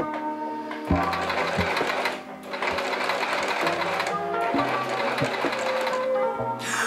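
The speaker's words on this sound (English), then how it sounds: "So now what we're gonna do is head over to my sewing machine." A sewing machine stitches T-shirt fabric in fast, steady bursts, pausing briefly between runs, close and loud.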